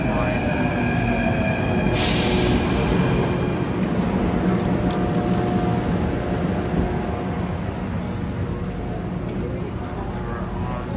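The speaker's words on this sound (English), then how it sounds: "All right, so my train is now coming." An Athens metro train pulls into the station, a loud continuous rumble of wheels and motors with a brief high squeal, heard close by amid platform noise and a voice.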